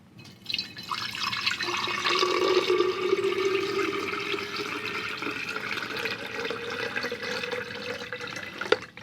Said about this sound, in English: Let's put it in the testing medium here and fill her up with water.